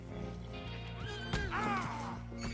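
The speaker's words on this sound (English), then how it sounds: "Because all these horses are agitated." Agitated horses in a stable in Red Dead Redemption 2 whinny in a short, wavering neigh over a low steady hum, fairly near and moderately loud, with a brief thump partway through.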